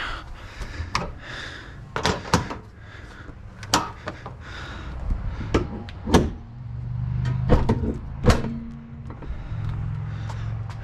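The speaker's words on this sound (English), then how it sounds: "now it's time to close the hood and see how it looks there" Someone closes the hood of a Ford Mustang GT whose vinyl wrap has been removed, producing a close series of metallic clunks, thumps and rattles spread across several seconds.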